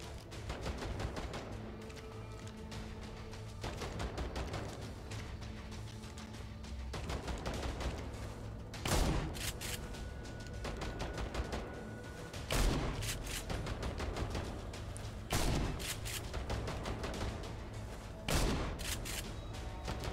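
Shotgun in INSOMNIA: The Ark, a rapid series of repeated loud blasts with brief gaps between volleys, close and sustained over the stretch, with no talk.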